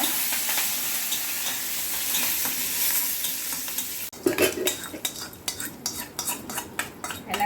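Chana dal and green chilies tempered in hot oil in a kadai: steady loud frying sizzle, then from midway a spoon stirring and scraping against the metal pan in repeated rhythmic strokes over continued crackling.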